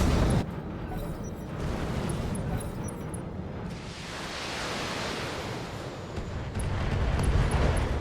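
Swarms of missiles explode in a BTAU video-game battle, making a dense, rumbling roar that swells and sustains like crashing surf, with a brief drop before the blasts build again.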